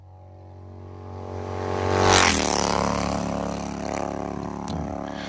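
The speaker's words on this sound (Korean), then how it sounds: "할리 데이비슨 이제 그 오토바이 소리들도 굉장히 여러 가지 있습니다" A Harley-Davidson motorcycle engine rises to a loud, close pass with a sharp pitch sweep near the middle, then settles into a steady rumbling fade, with no talking.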